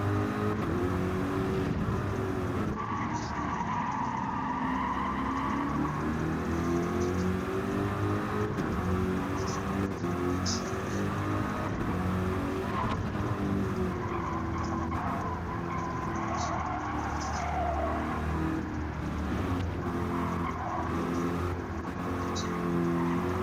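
A race car at the 2024 RoadKing Race 4 pulls out on a fresh set of tires, its engine a loud, continuous droning roar that rises and falls in pitch throughout.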